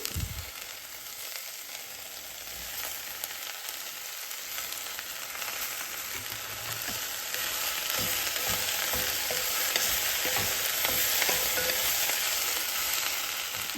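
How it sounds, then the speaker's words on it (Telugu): Tomatoes and fenugreek leaves fry with onions in a pan for a bottle gourd yogurt curry, giving a steady, loud sizzle that swells slightly toward the end, with occasional stirring scrapes and no talk. "ఇప్పుడు టమాటాలు కూడా వేస్తానండి."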